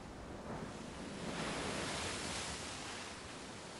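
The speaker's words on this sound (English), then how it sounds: "The sound of waves froze into my ears." Ocean waves crash in a steady, full roar of surf mixed with wind in the video game Umineko: When They Cry, swelling gently and then easing, with no voices.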